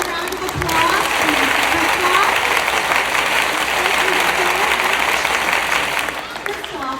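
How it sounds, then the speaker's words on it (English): Sustained audience applause for Christophe at a youth event, a thick, loud roll of clapping from a large crowd with a few scattered cheers and voices, swelling in and tapering at the end. "Let's give another round of applause to"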